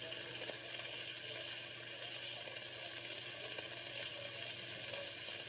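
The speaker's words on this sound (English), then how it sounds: "Now you're just gonna let that bacon cook without messing it with it too much." Bacon cooking undisturbed in a pan sizzles and crackles steadily, close and continuous, with no talking over it.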